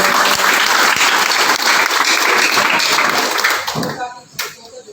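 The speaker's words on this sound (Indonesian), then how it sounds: "Berikan tepuk tangan buat Tuhan Yesus." Dense, steady applause from a church congregation, sustained for several seconds before thinning out into scattered claps near the end.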